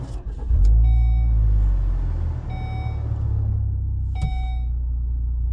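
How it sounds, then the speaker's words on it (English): A Volvo S60 T6 with an IPD turbo-back exhaust starts from inside the car, a brief crank then a low, steady, subdued idle rumble with a few faint warning chimes. "You can barely hear the exhaust."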